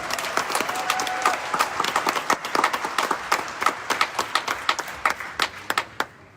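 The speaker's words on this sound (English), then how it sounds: "Give yourselves a round of applause" An audience at an entrepreneur talk gives a round of applause, a loud, dense clatter of many hands that thins to a few sharp single claps before it dies out.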